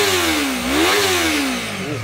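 A new motorcycle's engine roars steadily nearby, revving up and easing off in one continuous, loud pull with no voices over it.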